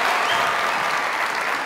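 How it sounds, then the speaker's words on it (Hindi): An audience claps steadily and continuously at a TV drama audition set, with dense, even applause and no talk over it. "ताली बजाओ सर।"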